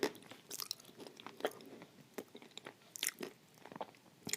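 Soft Uzbek clay mixed with Turkestan clay into a blue paste, chewed close to the microphone with quiet, irregular crunches and wet bites, faint but distinct against near silence.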